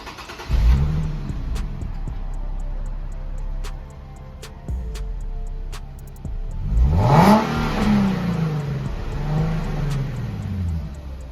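A stock 2019 Nissan 370Z engine cranks and fires up, revs sharply, then settles into a steady idle rumble up close, with a couple of brief blips.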